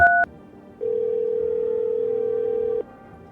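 Telephone in a video game: a brief two-tone beep, then a steady, loud dial tone holding for about two seconds before cutting off, with quiet hum around it and no speech.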